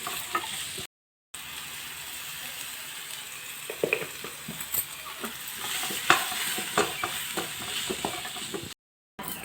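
Bamboo shoot frying in hot oil, a steady sizzle with repeated sharp scrapes and clinks of a spatula being stirred in the pan, close and clear, broken by two brief silent gaps.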